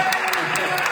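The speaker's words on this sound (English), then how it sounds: "you can clap for a few." Brief, close applause rises from the audience at a college jazz band's spring concert, a short burst of clapping under a hint of voices.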